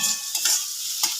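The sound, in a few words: onions frying in a pan for patties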